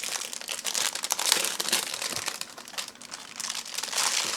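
Packaging of a Razer BlackWidow V4 75% keyboard crinkling and rustling as it is unwrapped, a busy close-up crackle of plastic and paper with no talking.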